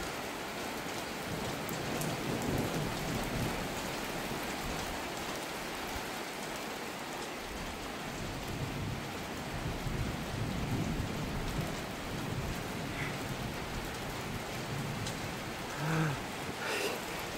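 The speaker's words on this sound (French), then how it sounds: "Cette salve de pluie qui passe" A heavy rain shower pours steadily on surfaces with a distant thunderstorm rumbling low beneath it, a dense continuous wash of rain with no talk.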